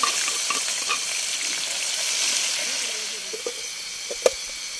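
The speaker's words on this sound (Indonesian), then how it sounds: "Goreng cabe" Chili peppers frying and sizzling in a pan on a bamboo raft during heavy rain, a steady close hiss with occasional stirring clinks and a sharp tap near the end.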